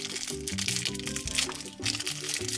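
A crinkly plastic blind bag for a toy doll is opened, giving steady close crinkling and crunching rustles under a faint musical background.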